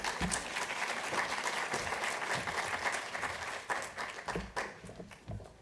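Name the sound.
audience applause welcoming a speaker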